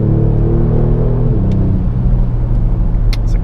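A Kia Stinger GT with a 370 hp engine revs hard at high RPM, its loud close-up drone climbing and then dropping off around a gear change, with road rumble beneath.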